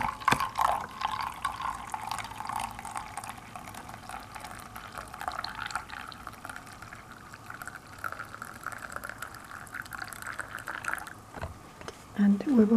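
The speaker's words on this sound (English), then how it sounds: "I will pour the tea." Tea poured into a cup, a soft trickling and filling sound running for several seconds, with someone talking over it.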